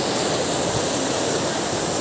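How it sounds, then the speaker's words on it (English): Fast-flowing water current at Datanla Waterfall, heard from a bridge as a loud, steady, broadband rush that fills the whole clip without pause. "Wow, the current of the water is really fast."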